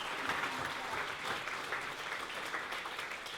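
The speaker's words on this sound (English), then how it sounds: "So big cheer to Louise." Guests at a cancer charity's anniversary gala applaud and cheer, a dense, continuous wash of clapping heard from within the room, with possible voices mixed in.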